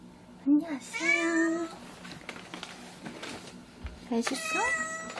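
A cat meows twice close by, a drawn-out cry followed by a shorter one after a pause, with quiet rustling between.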